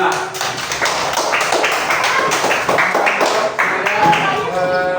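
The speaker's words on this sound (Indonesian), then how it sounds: "Kita kasih tepuk tangan untuk kelompok 5" Class of students applauding a presenting group, many hands clapping in a loud, continuous close-up burst, with some voices mixed in underneath.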